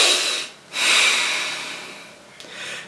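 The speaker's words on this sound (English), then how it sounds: "focus on breathing in and out of your nose" Slow breathing in and out through the nose, two long airy breaths separated by a brief pause, close and fairly soft with no talking.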